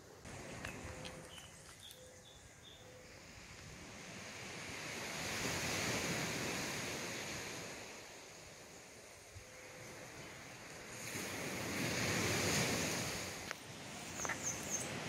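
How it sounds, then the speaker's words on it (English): Surf washes onto a black sand beach at Sparrow Bay in steady broad swells, two louder surges rising and falling, with wind buffeting the microphone and a faint bird call near the start. "So we've come down to a spot called Sparrow Bay, which is a black sand beach"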